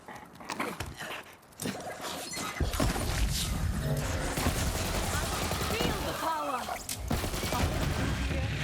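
Grenade blasts and gunfire from the shooter game Borderlands 3, a dense, loud barrage of bursts and rattling shots that continues without a break.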